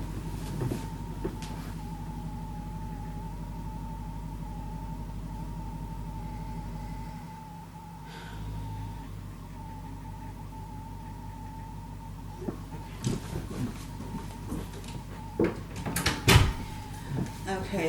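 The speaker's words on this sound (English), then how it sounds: "Okay, I need to close this door." An indoor door is pushed shut over a steady room hum, with a few soft thumps and clicks near the end.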